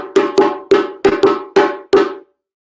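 Drum signal break for the kuku rhythm: seven sharp, resonant hand-drum strokes in a quick syncopated pattern, loud and close, ringing briefly before ending in silence.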